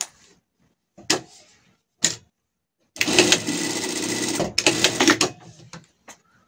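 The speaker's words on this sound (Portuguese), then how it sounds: "e vamos passar uma costura" A sewing machine runs a seam on surgical scrubs, with a few short taps and bursts followed by a longer steady stitching run and a final brief burst, close and clear.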